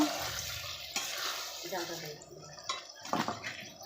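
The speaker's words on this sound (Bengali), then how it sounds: "ঝোলের জলটা দিয়ে দিন তো দেখো" Water pours into a pan of mutton curry being cooked, a close splashing gush that is broken up and shifts in level, with a voice speaking over it.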